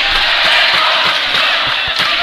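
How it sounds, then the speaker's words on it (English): A high school girls' volleyball crowd roars and cheers loudly and continuously in a gym, a dense wall of voices with faint thumps beneath. "Pitman crowd going nuts over here"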